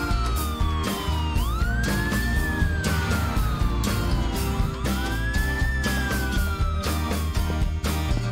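An ambulance siren in a children's garage game, wailing up and down in slow sweeps over bouncy, steady background music, loud and continuous throughout.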